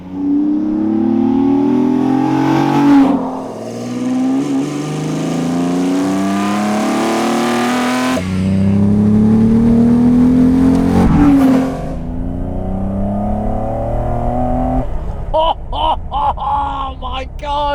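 A tuned car is driven hard, its engine revving loudly in long rising pulls with a gear change between them, then settling into a rumbling idle and blipping in a few short bursts at the end.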